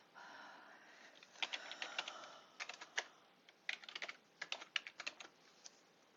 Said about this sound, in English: I'm going to just type in exactly the same stuff.